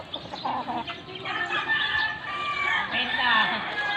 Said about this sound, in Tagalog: Yan, mga sisiw.